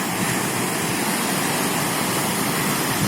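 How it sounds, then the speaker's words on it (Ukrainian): Ocean waves pound against rocky cliffs in a loud, dense, unbroken roar of churning water, with no speech. "На тій стороні як б'є об скали, океан."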